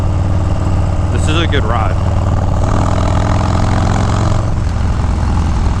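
A Harley-Davidson 2019 Softail Street Bob with a stage 4 Milwaukee 8 engine runs at a steady low rumble throughout, close by, while someone speaks briefly over it.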